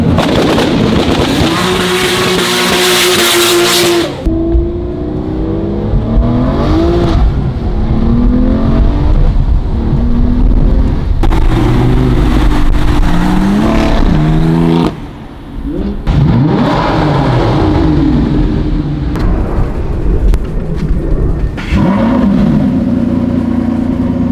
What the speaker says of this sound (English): How crazy does that V12 sound?